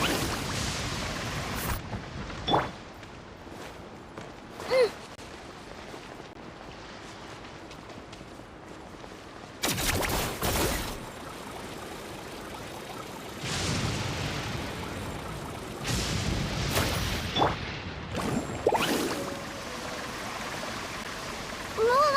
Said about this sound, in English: Need a surfboard? Carving waves!